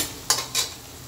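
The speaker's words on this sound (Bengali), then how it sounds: "পানিটা দিয়ে আমি এই তরকারিগুলো আবারও একটু ভালোভাবে নেড়ে চেড়ে দিচ্ছি, আর ঢাকনা দিয়ে ঢেকে দিচ্ছি 10 মিনিটের জন্য।" Curry of fish and cauliflower in a pan, stirred briefly and covered with a lid: two quick scraping clatters close by, about a quarter second apart, over a quiet background.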